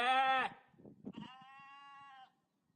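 Sheep bleat loudly and nearby, one wavering cry at the start and a longer, steadier bleat after a brief burst of human talk in between.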